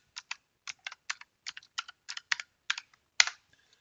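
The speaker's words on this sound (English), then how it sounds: "you log in here as root, and I'll put in the password that I changed it to" A password is typed on a computer keyboard as a run of about fifteen crisp, close keystrokes in quick irregular bursts, with short pauses between groups.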